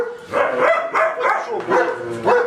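A dog barks and yelps in quick, excited bursts, close and loud, a run of sharp calls with brief gaps over about two and a half seconds and no talk.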